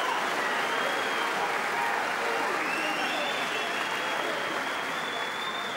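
A boxing crowd cheers and applauds at a fight between Jamie Moore and Matthew Macklin, a dense, steady wash of clapping and roaring from a large audience lasting the whole stretch, with a commentator's voice running over it.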